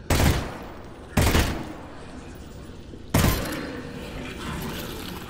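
Three sharp gunshots ring out in Half-Life: Alyx, spaced about a second or two apart, each a loud crack followed by a long, echoing decay.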